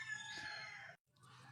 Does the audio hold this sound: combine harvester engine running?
no